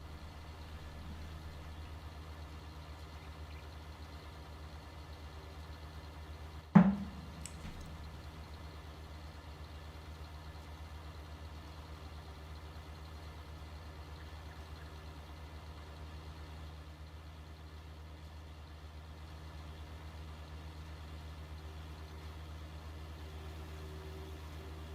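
Idling engine of a cute, fat, stubby, boxy tractor in a farming video game, a steady low drone throughout with one sharp click or thud near the start.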